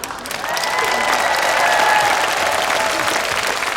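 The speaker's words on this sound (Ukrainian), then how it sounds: "я просто хотів би і для Владза невеличких овацій" Audience applause at a comedy show, a steady wash of clapping that swells after a half second and keeps going at full strength throughout.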